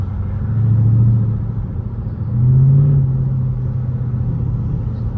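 Widebody Dodge Challenger Scat Pack moving through traffic, deep engine rumble swelling twice in throttle pulses with downshift surges, loud and close, no talk.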